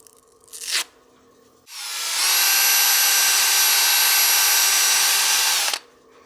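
Wood lathe spinning up and running steadily while a cake stand piece is sanded with 400 grit sandpaper, a loud sustained whine with a brief scrape before it starts, then winding down after several seconds.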